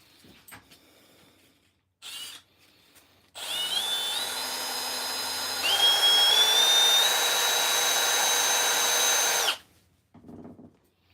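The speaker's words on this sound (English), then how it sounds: "Sands it right down." A miniature wooden piece is power sanded, a loud high whine lasting about six seconds that rises in pitch partway through, with short bursts of tool noise before and after.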